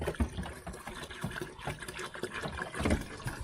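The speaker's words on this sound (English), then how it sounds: "Another gallon of water in there." A gallon of water is poured into a container outdoors, a continuous splashing gush with uneven glugs, close and moderately loud, with no talking.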